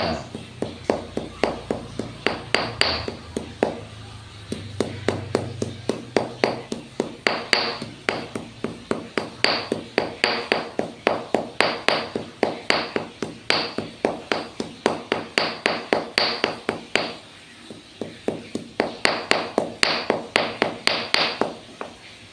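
Sembilu leaves mixed with turmeric are pounded by hand in a steady, repeated rhythm of sharp knocks, close and clear, with short pauses between runs of strikes and a voice speaking now and then.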